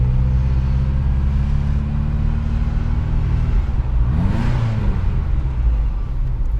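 A 1986 Ferrari 328 GTS idles with a steady low engine rumble while being driven, then gives a brief rev that rises and falls in pitch, loud and close.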